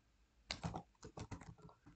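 Quiet, close keystrokes on a computer keyboard come in a quick irregular run of about a dozen taps after a short pause, alone in a silent room.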